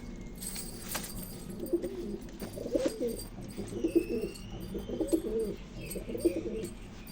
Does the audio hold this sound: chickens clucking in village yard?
no